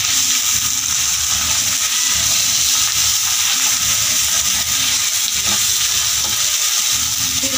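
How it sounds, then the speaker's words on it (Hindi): Egg masala for a dhaba-style dish frying and being stirred in a pan over a medium flame, a steady loud sizzle with scraping stir strokes throughout and no talking. "इसे अच्छी तरह से भूनेंगे, फ्लेम थोड़ा मीडियम रखेंगे इस समय।"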